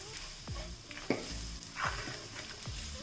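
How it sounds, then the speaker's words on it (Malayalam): Pieces of chicken sizzling and frying in a hot pan for pepper chicken, with steady loud crackle and repeated scraping stirs of a spatula, close up and continuous. "നമുക്ക് ചിക്കൻ ഇടാം."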